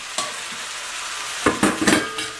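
Vegetables including bell peppers and potatoes sizzle in a pan for chicken colombo, with a steady hiss broken by a few scraping stirs and clatters of the utensil, loud and close, no talking.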